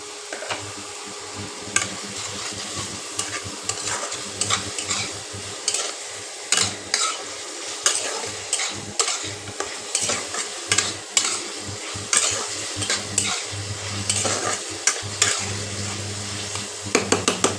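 Potato, brinjal and bori with fried khoira fish, turmeric and a little sugar sizzle in hot oil for a Bengali tel jhal while a spatula scrapes and clinks against the pan in steady, irregular strokes, close and clear with no talk.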